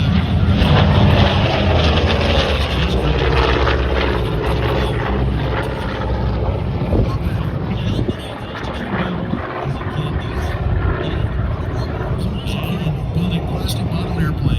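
A warbird medium bomber, used as a strafer, flies past at a military air station airshow, its propeller engines making a loud, steady broadband roar that fills the whole stretch, with crowd noise and commentary underneath.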